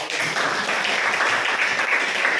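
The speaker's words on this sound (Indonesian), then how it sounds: "Tepuk tangan." A class of students claps together during a lesson, a steady, moderately loud patter of many hands that runs evenly from start to finish.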